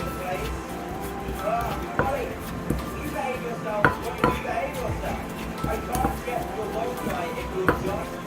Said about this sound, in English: If you have hard palm sugar like me, just cut into shards with a knife before use.